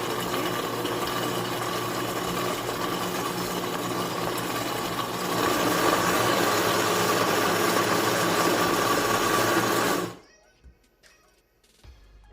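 A kitchen blender runs steadily with a loud whirring motor for about ten seconds, mixing rum-soaked fruit for a Jamaican black cake, then cuts off abruptly, leaving near silence.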